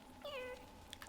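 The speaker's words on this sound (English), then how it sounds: "This guy makes noise. Interesting. It sounds kind of like a mix between a kitty cat's meow" A creature in the game Hollow Knight lets out a short, faint meow-like cry with a bending, wavering pitch, followed by a brief tiny chirp, alone over quiet background.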